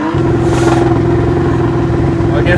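A car engine revved hard through a throttle controller, a loud, steady, throaty drone held close for a couple of seconds with a brief voice over it.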